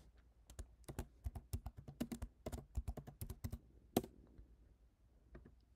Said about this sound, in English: we are going to type in the team names